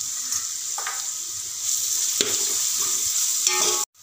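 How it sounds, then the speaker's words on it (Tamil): Spices frying and sizzling in a pan for mutton biryani, a steady close hiss with occasional stirring scrapes, ending abruptly. "இதுவும் நல்லா ஸ்மெல் போகிற வரைக்கும் ஃப்ரை பண்ணிக்கோங்க."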